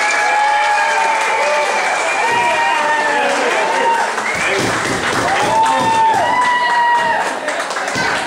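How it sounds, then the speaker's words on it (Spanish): Sustained audience applause at an awards ceremony fills the room, steady and loud throughout, with crowd voices, whistles and cheering mixed into the dense clapping. "Un aplauso a Miguel Díaz."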